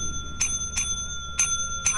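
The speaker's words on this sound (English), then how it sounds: "sold all these damn bells" Small bells in the game Lethal Company ring four times in a sparse, uneven rhythm, each a bright ping with a lingering metallic tone over a low background hum.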